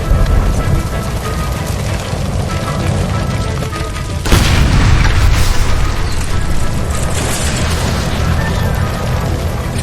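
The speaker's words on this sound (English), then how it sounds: "Shoot the gas line, Cole, we're out of here" A loud explosion erupts from a ruptured gas line by a kitchen stove in the video game L.A. Noire, a sudden broadband boom that roars and rumbles on over busy game noise for several seconds.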